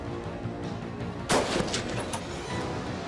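A single sharp sniper rifle shot cracks out midway, fired at a bulletproof vest, followed by a brief echoing rumble over steady background noise.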